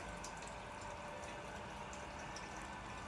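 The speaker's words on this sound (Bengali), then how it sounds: "এই যে জল ভরছি, টাইমের জল দেখুন" Water rushes steadily from a household tap into a container during morning chores, a continuous broadband splashing hiss that stays even and unbroken throughout, with no one speaking.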